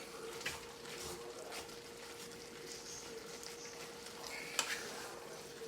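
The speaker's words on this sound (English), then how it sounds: "I'm just going to stir it up a little bit" A chicken salad mixture is stirred in a pan on a switched-off stove, giving soft, steady scraping and faint crackling with a couple of light utensil taps, quiet throughout with no talking.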